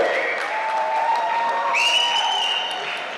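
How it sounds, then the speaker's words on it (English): A capacity crowd at an India Independence Day celebration at The Matrix Club in Chicago gives a big, sustained round of applause, loud and dense throughout, with cheers and whistles rising over the clapping partway through. "can you give a big round of applause to Sunil and FIA for putting on today's event?"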